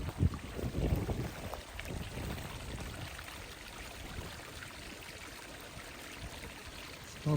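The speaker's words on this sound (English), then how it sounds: "You can hear the creek running in over here" Creek near Whiskeytown Lake running high with snow melt water, a steady broadband rush heard close and unbroken, with some wind buffeting on the microphone at the start.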